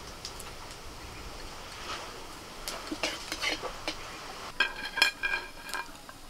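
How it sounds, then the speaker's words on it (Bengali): Whole cumin seeds fry in a little white oil in a kadai wok, a soft steady sizzle with occasional metallic clinks and scrapes from stirring. "কড়াইতে সামান্য একটু সাদা তেল দিয়ে ওর মধ্যে আমি দিয়ে দিচ্ছি গোটা"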